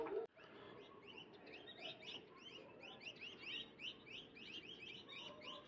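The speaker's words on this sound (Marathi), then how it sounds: "चिमण्यांचा आवाज येतोय, मस्त" Sparrows chirp outdoors on a cold, misty mountainside near snowy peaks, a steady flock of many overlapping short tweets in quick succession, fairly close and continuous, with a brief knock at the start.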